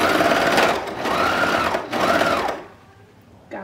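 A sewing machine basting a seam on boxer briefs gives a close, rapid, steady whir of stitching for about two and a half seconds, then stops.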